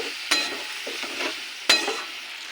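Peas with a little water being stir-fried in a kadai for a fish-head cabbage dish; a soft continuous sizzle broken by two sharp stirring scrapes, close by.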